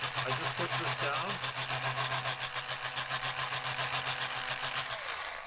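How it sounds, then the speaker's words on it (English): A power drill runs steadily as it shaves a precise amount off a wooden workpiece held in a jig, giving a continuous, loud, grinding whir with a low motor hum beneath, lasting throughout and easing slightly at the end. "So when I start the drill going, I just push this down,"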